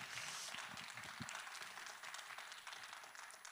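Audience applause at the close of a candidate debate for the Yangpyeong county head race in a local election, a dense, steady wash of many hands clapping throughout, fairly faint and distant, with no talk over it.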